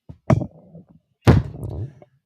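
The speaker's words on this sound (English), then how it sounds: "whoever heard that was me moving my microphone, so you're going to hear a thud in your ear" A handheld microphone being moved produces two dull, close thumps about a second apart, each followed by faint handling rustle.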